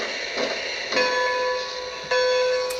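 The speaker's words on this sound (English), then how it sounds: "Here's the bell." Bell on a Lionel Strasburg 90 model locomotive, a few clear ringing strikes at moderate level, each tone sustaining and overlapping the next.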